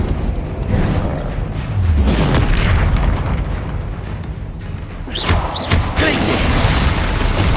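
Deep, rumbling blasts from the Bombarda explosion spell in Hogwarts Legacy during a wizard duel, loud and dense, with a sharper crack partway through amid ongoing battle noise.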